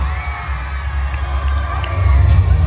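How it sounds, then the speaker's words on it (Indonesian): A festival crowd at an MTQ closing ceremony in Muara Jawa, Kutai Kartanegara, cheers and claps loudly with shouts over a low rumble, swelling slightly toward the end. "Tepuk tangan untuk kelurahan Dondang."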